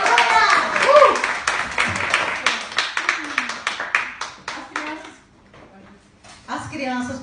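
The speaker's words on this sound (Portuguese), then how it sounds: "Palmas para Benjamin" Church congregation clapping together loudly at first, then thinning into scattered claps that fade out, with voices speaking over and after it.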